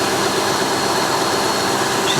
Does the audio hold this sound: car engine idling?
yes